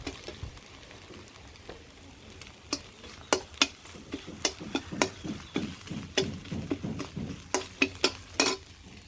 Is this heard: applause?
no